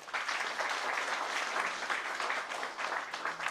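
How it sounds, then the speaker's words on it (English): A crowd at a bank wall calendar unveiling gives a steady round of applause, a uniform wash of many hands clapping, moderately distant and sustained without a break. "I'm expecting a huge round of applause."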